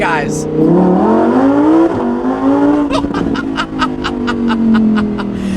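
Lamborghini Huracan Evo Spyder, a 2020 convertible, with its engine note rising and sweeping upward in pitch as it revs, loud and close, then a rapid series of sharp ticking pulses, with people talking over it.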